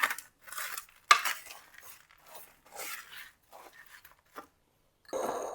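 A spoon stirs homemade granola with dried apple pieces in a bowl, producing intermittent scraping and rustling strokes, close and fairly quiet, ending with a louder clatter.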